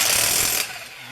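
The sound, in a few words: impact wrench removing 19 millimeter lug nuts on Subaru Outback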